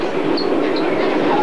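A New York subway train in 1996 gives a loud, steady rumble close by, with brief high squeals over the roar.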